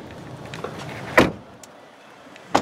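The sunroof of a 2014 Hyundai Accent opens with a soft electric motor whir inside the quiet cabin, marked by two short clunks as it moves.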